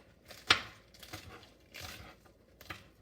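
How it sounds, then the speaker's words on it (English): Several soft, scattered knife chops through chard leaves on a cutting board, one sharper thump among irregular crisp strikes, quiet and close with no talking. "I'm just like roughly chopping them."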